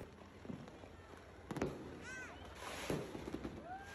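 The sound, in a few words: New Year's Eve fireworks exploding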